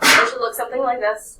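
A sharp, loud sneeze bursts out at the start in an algebra classroom, followed right away by a person speaking.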